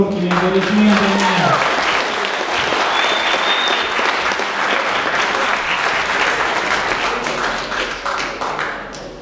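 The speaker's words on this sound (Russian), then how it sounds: "Поддержим спортсменов громкими аплодисментами." Loud applause from the crowd at a boxing arena after an amateur men's 71 kg bout, sustained dense clapping for about nine seconds that tapers slightly at the end, with a voice briefly heard at the start.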